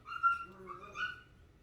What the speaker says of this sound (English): Sorry, my dogs are messing around. Disclaimer, I have 2 German Shepherds and they tend to enter my readings a lot.